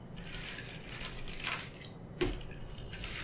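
Jigsaw puzzle pieces shuffle and clatter softly and continuously, with small clicks and rattles close by and no talking.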